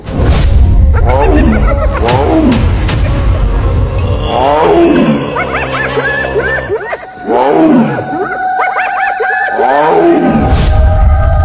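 Two tigers fighting give loud, harsh roars and snarls in repeated bursts, close and dominating, with scuffling noise between the calls.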